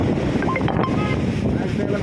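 Strong wind gusts during rain in Bengaluru roar steadily across the microphone for the whole stretch, a dense close rushing noise with faint voices faintly in the background.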